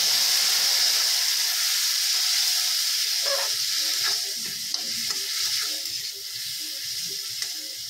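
Masala paste for rajma sizzling in a pan as water is added: a loud, close steaming hiss that gradually softens, with faint stirring clicks underneath.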